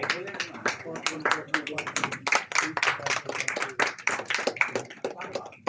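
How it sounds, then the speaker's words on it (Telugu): Audience clapping at a Telugu literary award ceremony, sharp irregular claps in a quick uneven rhythm, fairly close and moderately loud, with speech-like sounds mixed in. "అవసరమైనప్పుడు మనం నిర్మధురంగా చప్పట్లు శబ్దాన్ని ప్రయోగిద్దాము"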